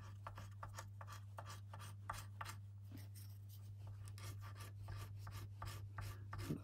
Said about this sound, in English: Always sanding inwards,